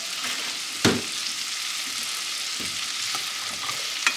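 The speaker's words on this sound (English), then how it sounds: "we're just gonna cook these until they are lightly browned" Pearl onions fry in a pan for a Boeuf Bourguignon, giving a steady close sizzle broken by a few sharp stirring clatters.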